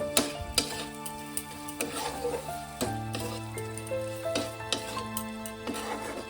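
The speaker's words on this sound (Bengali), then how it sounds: "একটু ঘি দিয়ে আর নেড়ে নাবিয়ে নেব।" A pan of papaya kaliya curry with ghee sizzles while a spoon stirs it, giving irregular scrapes and taps over steady frying and light background music.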